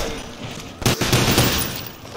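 Gunfire in the Call of Duty Zombies video game, a short rapid burst of shots rattling out under a noisy game mix, fairly loud and close.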